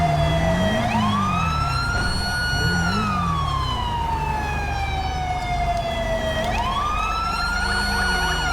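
A loud ambulance siren wails in the GTA 5 game, with slow rising and falling sweeps that continue steadily and close by, over a low engine rumble.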